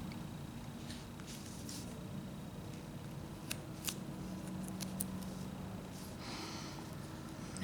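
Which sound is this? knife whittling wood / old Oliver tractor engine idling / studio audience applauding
knife whittling wood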